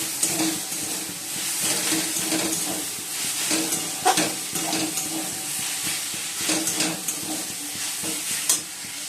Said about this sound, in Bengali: কি ফুটছে মাছ, এই অল্প অল্প তেল দিয়ে ভাজছি।